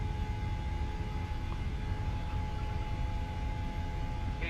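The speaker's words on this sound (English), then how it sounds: "And now we're going for maximum takeoff throttle." Boeing 737-800 engines spooling at maximum takeoff throttle in the PMDG flight simulator, a steady, dense broadband roar with a faint constant tone, unbroken and even in loudness throughout.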